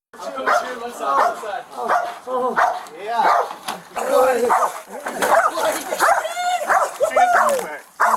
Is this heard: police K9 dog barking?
yes